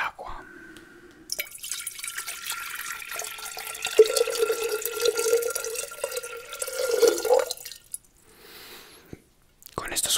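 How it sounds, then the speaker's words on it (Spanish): Water pours into a container in a thin, continuous trickle for several seconds, a faint gurgling stream that rises slightly in pitch as the vessel fills, with soft whispering around it. "tengo que tomar un recipiente, agregarle agua"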